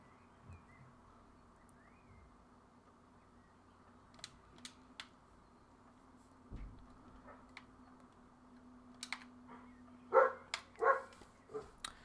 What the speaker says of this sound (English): And the dog hasn't gone away either, you can hear.